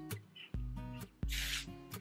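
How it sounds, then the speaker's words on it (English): Tresemme Make Waves hair spray hisses out of a can in a few short close bursts, with soft rubbing of hair through fingers between the sprays. "just kind of spray that on as I'm rubbing it through my fingers"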